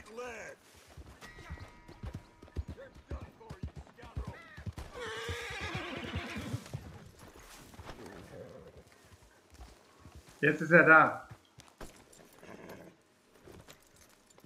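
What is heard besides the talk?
horse neighing and trotting up in Red Dead Redemption 2 video game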